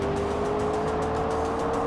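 A supercar cruising the roads of Dubai drones past at a steady pitch, a continuous engine hum with road noise, fairly distant and unbroken by voices.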